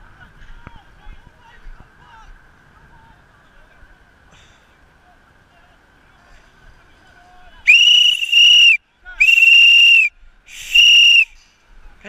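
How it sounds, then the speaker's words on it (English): A referee at an amateur football match gives three loud, shrill whistle blasts in quick succession after a stretch of quiet background with faint distant voices. "I blew the whistle."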